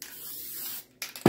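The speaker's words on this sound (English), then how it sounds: "Give it a little spritz." Spray adhesive is spritzed onto cotton batting for a quilted hot pad in a soft, close hiss lasting most of a second. It stops briefly, then gives way to quick rustling handling sounds.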